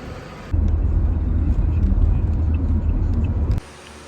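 Steady low engine rumble of a vehicle ride through Manila streets, loud and continuous for about three seconds, starting and stopping abruptly with quieter ambience on either side.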